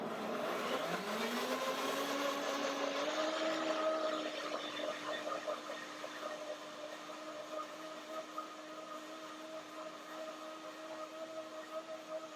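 A kitchen blender mixes a banana yogurt cream, its motor whining up in pitch during the first few seconds and then settling into a steady, loud, continuous whir.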